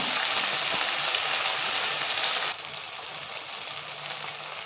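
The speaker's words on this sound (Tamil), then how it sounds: "தக்காளியும் பச்சை வாசனை போகிற அளவுக்கு வதக்கி எடுத்துக்கலாம்." Tomatoes sautéing in a pan for a hotel-style mint chutney, a steady loud sizzle that drops to a softer, even hiss partway through, with no voices.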